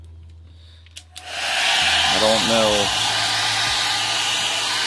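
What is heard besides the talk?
hair dryer heating an Acer monitor screen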